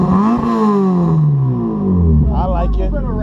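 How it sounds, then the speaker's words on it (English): A Honda S2000 AP1 with a homemade DIY exhaust revs up and back down, the engine note rising and falling in smooth sweeps, with voices talking over it toward the end. "A little bit of rev there, yeah."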